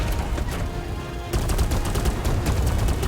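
Rapid bursts of heavy cannon fire in Warface crackle in quick succession, growing denser and louder halfway through, like a sustained barrage from big guns.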